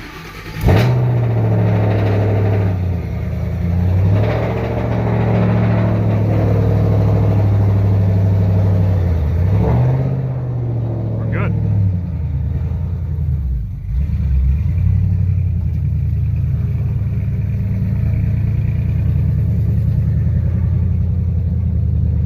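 A Ford Mustang engine idles with a deep, loud rumble close to the mic, broken by several quick throttle blips that rise and fall in pitch, then settles into a steady lower drone.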